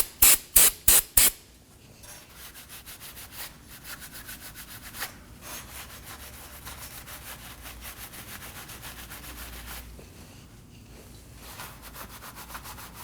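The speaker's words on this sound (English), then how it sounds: "Now wipe the area clean with some brake cleaner and a rag." Four sharp, loud bursts of brake cleaner spray near a Toyota Camry rear lower control arm, followed by a long stretch of steady rubbing and wiping with a rag at close range.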